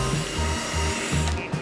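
A Milwaukee cordless drill drives a bolt on a 10th-generation Honda Civic, its rhythmic ratcheting whir pulsing in repeated bursts, close and fairly loud.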